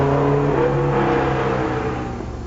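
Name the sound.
modified Skoda Rapid with Fiat 2-litre twin cam engine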